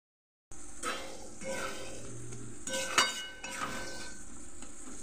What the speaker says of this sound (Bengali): এখানে দেখো সব মশলাগুলো দিয়ে এবার সাঁতলে নিচ্ছি।